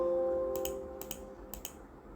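Three quick bursts of computer keyboard keystrokes, light and close, clicking in short clusters over a steady low electronic hum, with no voice present.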